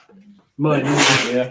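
A single loud, close sneeze bursts out right after a person speaks a couple of words quietly.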